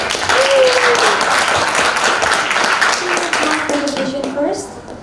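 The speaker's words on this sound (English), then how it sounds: "everyone please give warm applause to group 5." An audience at a youth-festival business idea competition applauds group 5, a continuous wash of clapping with voices calling out over it before it thins toward the end.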